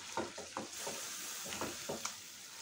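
Soft scraping strokes of a spoon stirring yogurt chicken (doi murgi) in a pan, several gentle rhythmic stirs over a faint steady sizzle, quiet and close.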